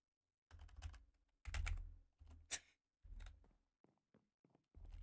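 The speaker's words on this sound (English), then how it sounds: "I just love typing random crap when I'm not even in the server" Computer keys clatter in several quick bursts of typing separated by short pauses, with a few lighter isolated taps near the end; the sound is close and quiet.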